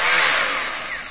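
A Makita HR2470 rotary hammer runs in a brief, loud, steady burst of whining motor and rattling mechanism, with no voices.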